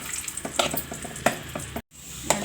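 Raisins frying in ghee in a pan, a crackling sizzle with repeated quick stirring clinks and scrapes, close by and without talk, briefly cutting out near the end.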